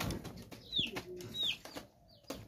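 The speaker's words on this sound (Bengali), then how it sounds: "এই যে দেখেন খুবই সুন্দর আছে কবুতর।" Domestic pigeons, including Sirazi breed birds kept for sale, give two or three short soft calls at close range amid quiet rustling and small knocks, fairly faint overall.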